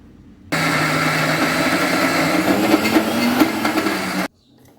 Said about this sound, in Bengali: চলুন ধোসার ডালটা বেটে নিই, ডাল চালটা।